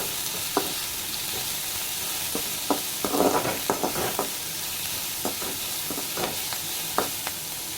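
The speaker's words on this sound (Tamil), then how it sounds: "கேஸை ஏற்றி விட்டுட்டு வெங்காயம் வதக்கணும்" Onions sautéing in a pan over a gas stove while making podalanga kootu, a steady soft sizzle broken by repeated sharp scrapes and clicks of a spoon stirring, close and without talk.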